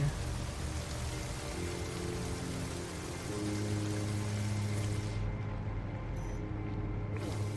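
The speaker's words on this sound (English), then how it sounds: "Oh, it's raining." Steady rain in the video game No Man's Sky patters and hisses continuously over a low hum, with no voices, the sound even and unbroken throughout.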